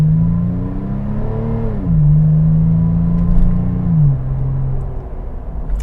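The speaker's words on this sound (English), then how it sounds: "I'm gonna just do a slight acceleration run really quick. Put my foot down." A 2020 Toyota 4Runner TRD Pro with a 4-liter V6 accelerates from inside the cabin, its engine droning and rising in pitch, dropping at two gear shifts before settling into a steady hum.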